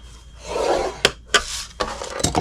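Cardstock scored with a scoring tool for a Valentine's Day treat box, heard as a breathy scraping rub followed by several sharp, close ticks and short strokes, with no talking.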